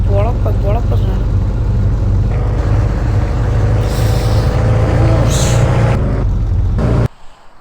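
A car engine idles with a steady low rumble, voices talking over it, before cutting off abruptly near the end.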